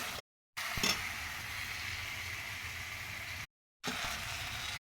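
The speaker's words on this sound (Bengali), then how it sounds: "ভালোভাবে এখন নাড়াচাড়া করে নিই। মশলাটা সুন্দরভাবে কষিয়ে নিয়েছি, এর মধ্যে তেল ছেড়ে দিয়েছে" Masala spices frying in oil while being stirred, a steady close sizzling hiss with a brief scrape, cut by two short stretches of silence.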